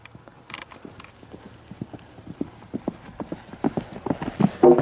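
Hooves of a ridden horse clip-clop in a steady, quickening rhythm at close range during a jumping session, growing louder toward the end with faint background noise.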